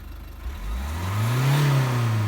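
A remapped car engine revs up in the red, its pitch climbing steadily as it accelerates, loud and close.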